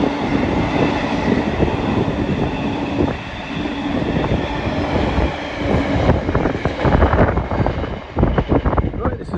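A long freight train rolls steadily past close by, a continuous loud rumble with rhythmic clatter of wheels over the rails throughout.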